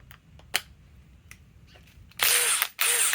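A DEWALT Atomic DCF921 impact wrench runs in reverse in two loud, rattling bursts near the end, following a few quiet clicks and taps.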